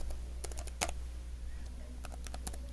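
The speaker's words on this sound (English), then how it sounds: "I'm going to type in my password." A password is typed on a computer keyboard in quiet, close, clustered keystroke clicks, a short burst early and another run near the end.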